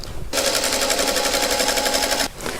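A sewing machine stitches a quilt block in one fast, steady run of rapid needle strokes lasting about two seconds, close and loud, then stops abruptly.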